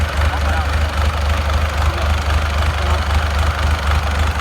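An Isuzu 4BC2 diesel engine with a black head idling, a heavy low rhythmic knock-and-thrum steady throughout, close and loud.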